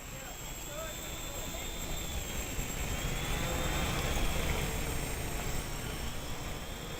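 A small Spider Quad Quadrino 2.0 quadcopter with altitude hold runs its motors under throttle, producing a steady high buzzing whine that swells and eases slightly over several seconds, fairly faint and continuous.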